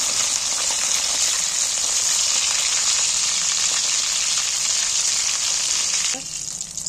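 Fish chop pieces fry in hot oil in a home kitchen, a loud, steady sizzle running unbroken for about six seconds before easing off somewhat near the end.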